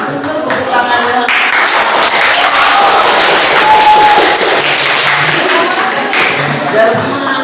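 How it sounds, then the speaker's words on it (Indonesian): Classroom applause from a group of students, a dense, steady wash of clapping and crowd noise lasting throughout, loud and close with some voices mixed in. "Harus betul tepuk tangannya."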